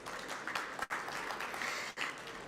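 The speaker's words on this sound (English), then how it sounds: "Please give him a round of applause." Faint applause from a conference audience in Hamburg for a panelist, scattered hands clapping with two brief dips, quiet and somewhat distant.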